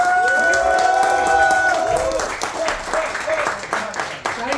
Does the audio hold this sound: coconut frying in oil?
no